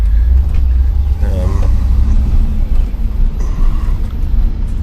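A 1987 IROC car drives around the block, its engine a steady, loud low rumble with road and wind noise filling the cabin, while a voice speaks briefly over it.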